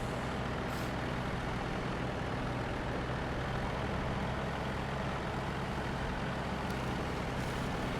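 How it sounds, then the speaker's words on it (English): In Snow Runner, a heavily loaded truck pulling a trailer grinds up a mountain, its engine a loud, constant low growl with faint hissing bursts from the brakes over the steady drone. "You see the truck really not happy with us for having so much weight on it going up this mountain."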